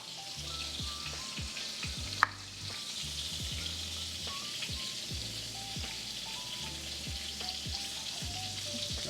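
Pork chops frying in a pan, a continuous crackling sizzle with rhythmic low bubbling pops and one sharp tap near the start, fairly close and steady, no talking.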